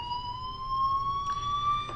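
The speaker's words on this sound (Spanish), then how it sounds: "la alarma de bomberos para terminar con este gameplay de Life is Strange, episodio 1" Fire alarm in the video game Life is Strange, Episode 1 on Xbox One, a steady high electronic tone holding at a constant pitch with faint background noise beneath it.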